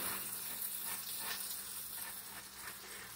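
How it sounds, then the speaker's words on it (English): Bacon strips frying in a pan give off a steady, close crackling sizzle that runs unbroken from start to finish, with no voices over it. "Bacon's still cooking."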